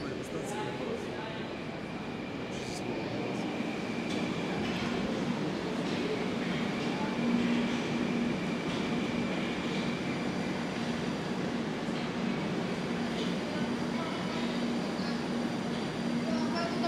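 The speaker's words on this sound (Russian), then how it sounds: "следующий состав после Русича 81-760АК" A Moscow metro train of type 81-760A rolls past on the Big Circle Line, a continuous, loud, even rumble with faint whine and metallic rattle that holds steady throughout, heard from nearby on the platform.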